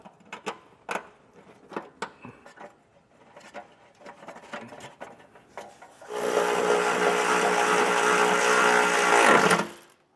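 Bolts are tightened while a Class III trailer hitch goes onto a 2020 Subaru Forester: scattered clicks and knocks, then a loud continuous mechanical whir for about three seconds before it stops.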